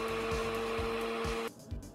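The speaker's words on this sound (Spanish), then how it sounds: "Ahora sí, vamos a darle a la licuadora para que se integren nuestros ingredientes de nuestra cremita blanca" A kitchen blender whirs as it purées a white cream sauce for spaghetti, its motor hum pulsing in a steady rhythm before cutting off halfway, leaving quieter handling noise.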